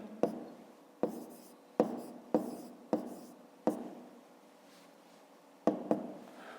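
Pen or chalk strokes write numbers by hand, a series of distinct sharp taps and scratches at irregular intervals, close and quiet, with no voices.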